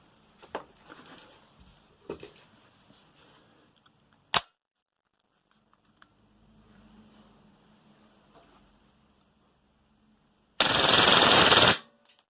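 KWA MP9 gas blowback airsoft gun firing full auto, a loud continuous rapid burst lasting about a second near the end, preceded by a few separate mechanical clicks and quiet handling noise.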